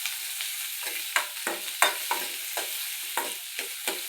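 A spatula stirs and scrapes ingredients sautéing in a hot pan, with a steady sizzle under regular sharp strokes about every half second, close and clear with no talking.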